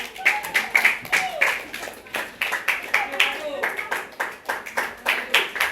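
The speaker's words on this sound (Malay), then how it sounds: "Tepuk tangan. Tepuk tangan dia." A classroom of pupils clapping for a classmate in a Malay-language lesson, bursts of fairly close hand claps in quick rhythm, mixed with a teacher's voice and children talking.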